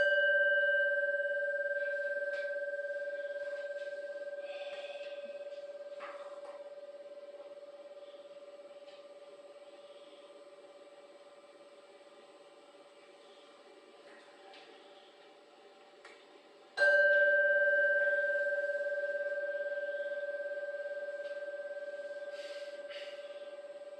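During a Buddhist dharma talk, a temple bell is struck twice, about seventeen seconds apart, each strike ringing out as a clear sustained tone that slowly fades in a quiet room.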